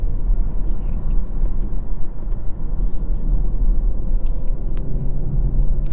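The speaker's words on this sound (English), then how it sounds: "This is probably the perfect amount of acceleration right here." The B58 inline-six of a 2024 BMW M340i Special Edition pulling under acceleration, heard from inside the cabin as a strong, steady low rumble with road noise and no talk.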